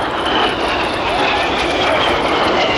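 Red Arrows RAF jets roaring overhead at the Ayr Airshow 2023 display, a loud, continuous broadband engine rush that holds steady throughout, with a voice talking over it.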